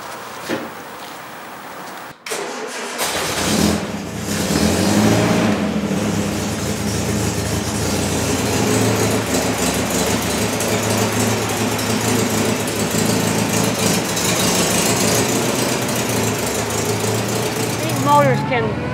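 A Morgan Plus Four car engine starts up and then holds a loud, continuous, high-revving drone, with a person talking over it.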